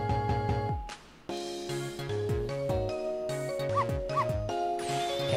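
A dog in the Ghost Trick video game barks in short bursts, with whimpers and yips mixed in, over layered game music and sound effects.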